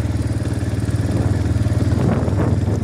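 Farm motorbike with a centrifugal clutch pulling away slowly under light throttle, a close, loud, steady chugging engine note that rises slightly, with no talking.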